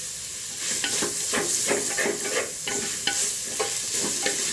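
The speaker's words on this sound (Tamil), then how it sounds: "தக்காளி, capsicum, green capsicum, red capsicum ரெண்டையுமே சேர்த்துக்குவோம். நல்லா ஒரு வதக்கிடுவோம்." Tomato with green and red capsicum sautéing in a pan for wheat carrot noodles, a steady sizzle broken by rhythmic spatula stirs scraping the pan, close and moderately loud.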